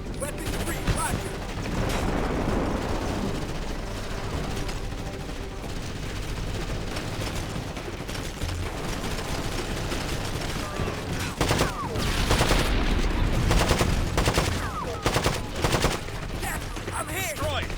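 Sustained gunfire from a firefight in the video game Ghost Recon: Advanced Warfighter, dense rapid bursts running continuously and loudly throughout, with short voice fragments mixed in.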